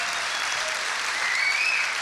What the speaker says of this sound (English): So let's give just a round of applause for Jim for a second.